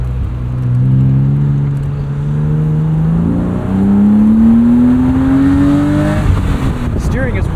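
A 1999 BMW Z3 M Roadster with an inline-6 accelerates through the gears, engine pitch climbing steadily, dropping at a shift, then rising again, loud and close from the cabin with people talking over it.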